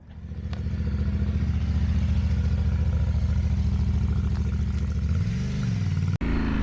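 A Yamaha Tenere 700 motorcycle engine runs steadily and close by with a throbbing low rumble, easing slightly near the end before a brief sharp break.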